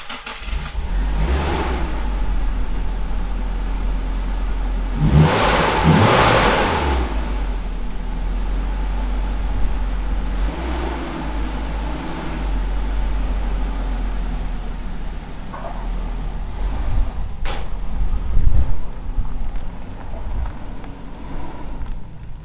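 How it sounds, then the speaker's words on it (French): A home-built car's engine cranks and catches, then revs up with a loud surge before settling into a steady idle, with a few more blips of the throttle, close and alone without talk. "On va démarrer la voiture."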